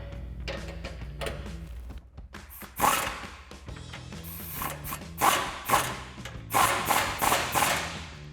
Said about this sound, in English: we'll tighten those up using our 21mm wrench and our